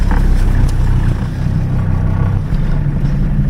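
A loud, steady Mercedes OM617 diesel engine swapped into a Toyota 4Runner rumbles at idle, close by, with a low continuous drone and slight variations in pitch.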